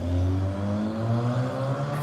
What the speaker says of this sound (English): There's a loud truck in front of me